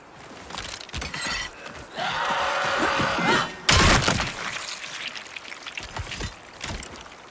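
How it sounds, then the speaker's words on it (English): Glass being stepped on in the Hunger video game, a loud close crunch and shatter with scattered tinkling and thuds around it, and no voices. "Heard that freaking guy step on a piece of glass"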